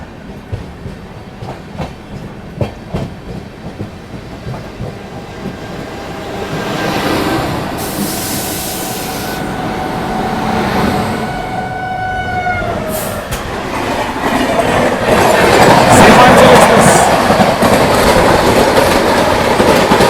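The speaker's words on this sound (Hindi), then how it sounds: "ये थी भाई आनंद विहार टर्मिनल पुरी नंदन कानन एक्सप्रेस।" The Anand Vihar Terminal–Puri Nandan Kanan Express, an Indian passenger train, passes close by with a loud, building rumble and rhythmic clickety-clack of wheels over rail joints that swells into a roaring rush.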